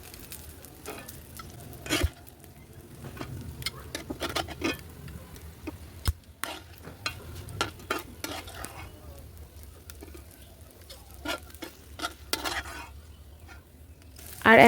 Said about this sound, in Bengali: এই বড়াগুলোও ভেজে উঠিয়ে নেব